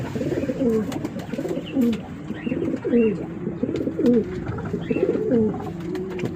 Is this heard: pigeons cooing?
yes